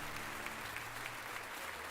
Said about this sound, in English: The song for some reason has an applause track.